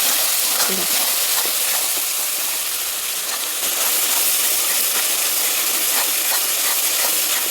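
Spice paste fries in oil in a pan with a loud, continuous sizzling hiss and scattered crackles throughout, close by and without a break.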